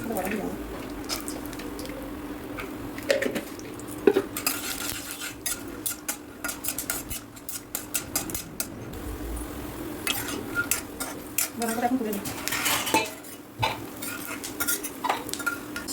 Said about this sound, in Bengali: ওটা বাদাম ভেজে নিই আগে